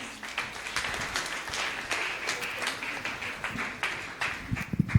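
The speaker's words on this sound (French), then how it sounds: "People of God, can you jam those your beautiful hands for Master Jesus?" Church congregation clapping during a worship service, an uneven crowd of hands with sharp individual claps standing out in a loose rhythm, fairly close and lively, with no speech.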